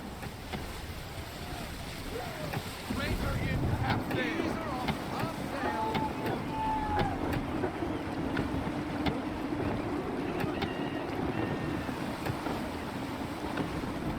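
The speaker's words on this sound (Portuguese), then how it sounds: "Gusty winds can be difficult to manage." Gusty wind blows around a sailing ship at sea in Assassin's Creed III, a steady rushing noise with water and creaking underneath, and a voice talks over it.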